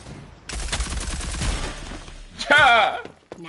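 Sniper fire in the video game Rogue Company: a loud, sharp shot rings out near the end after a stretch of game noise and talk.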